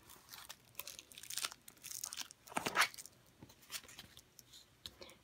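Crinkling and tearing of a metal duct tape sticker sheet being flipped over on a cutting mat, with soft crunchy crackles and one louder crinkle near the middle.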